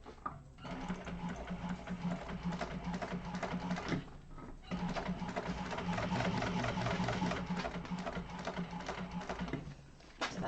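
A sewing machine runs steadily while top stitching along one side of a seam on a bound bowler bag, with a brief pause partway through and then continuous stitching resuming, close and fairly loud.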